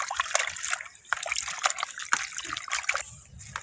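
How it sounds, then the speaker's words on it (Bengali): Jute leaves being rubbed and washed by hand in water, giving close, continuous sloshing, trickling and splashing with repeated bursts of rubbing. "আবারও জল দিয়ে ধুইব। ভালো করে কচলে কচলে ধুয়ে নিতে হবে।"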